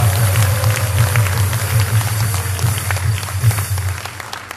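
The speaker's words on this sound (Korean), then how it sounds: "박수하겠습니다." A crowd claps steadily for several seconds at a political rally in a convention hall, dense applause filling a large room with a low hum underneath.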